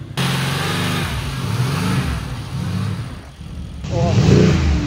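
A Mercedes car engine revs in rising and falling surges close by, loud throughout, with a stronger burst near the end and a voice speaking briefly.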